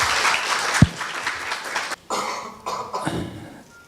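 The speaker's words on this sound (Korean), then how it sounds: "여러분 뜨거운 박수로 환영해 주시기 바랍니다." Audience applause at a Korea University lecture welcomes a professor to the podium, with dense clapping that breaks off abruptly around two seconds in. A single cough stands out early on, and a smaller burst of clapping follows before fading.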